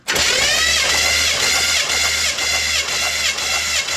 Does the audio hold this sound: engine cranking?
yes